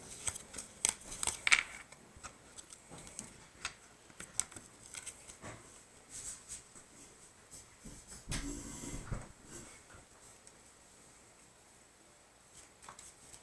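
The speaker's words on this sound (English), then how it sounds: "Hopefully I shuffle better this time." Game cards for the Power Rangers: Heroes of the Grid board game being shuffled by hand: soft, intermittent riffling and sliding bursts at close range, faint against a quiet room.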